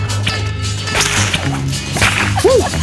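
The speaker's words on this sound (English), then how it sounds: "Now, I think you guys might have to have a little whip cracking lesson" A bullwhip cracks sharply several times during a whip-cracking lesson for on-screen archaeologists in Florida, the snaps standing out over a steady low background hum.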